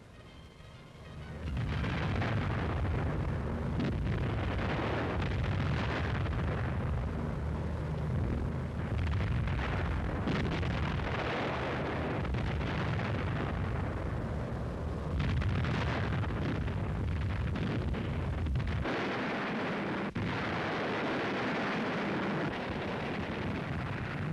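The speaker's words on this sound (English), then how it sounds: "Ahead went the bombers in overpowering force to destroy German rail yards, troop concentrations, fuel and supply dumps." Bombs from aerial bombers pound German rail yards and supply dumps in 1945, a dense, continuous roar of heavy booming explosions and rumbling blasts, loud and overlapping throughout.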